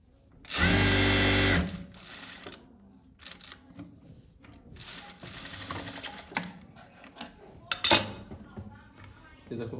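A sewing machine runs in one loud, steady burst of stitching as fabric for a pant pocket is sewn, then stops, followed by quieter handling clatter and light tapping.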